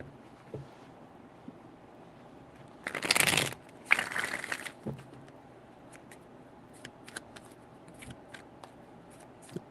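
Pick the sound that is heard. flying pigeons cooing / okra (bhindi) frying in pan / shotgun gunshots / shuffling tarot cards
shuffling tarot cards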